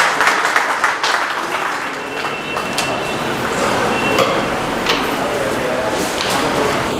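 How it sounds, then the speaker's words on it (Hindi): Audience applause at a Congress party organizational gathering in Delhi, steady dense clapping from a crowd filling the space for several seconds, with faint voices underneath. "एक बार जोरदार तालियों के साथ डॉक्टर साहब का स्वागत।"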